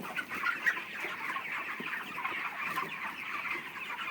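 Chickens cluck continuously on a poultry farm, a busy chorus of many birds at moderate distance, fairly quiet overall.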